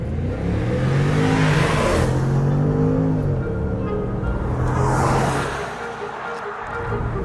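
A 2022 Range Rover with a BMW-sourced 4.4-liter engine accelerates hard, its loud engine note rising in pitch over several seconds before easing off, with brief speech from inside the cabin.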